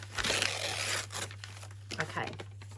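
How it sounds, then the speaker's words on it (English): Paper is roughly torn by hand into pieces, giving a few rasping rips and crinkles at close range over a low steady hum, with a voice speaking in between. "I'm just going to roughly tear a couple of pieces"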